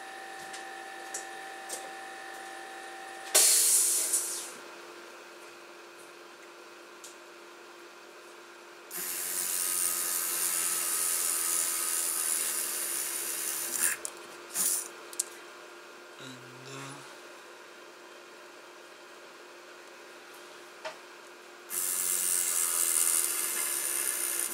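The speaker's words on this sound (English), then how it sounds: "I'll drill the holes." An electric drill bores holes through a homemade 12-inch electronic drum tom pad, with two whirring bursts separated by quieter workshop noise and handling clatter, fairly close and with no talk.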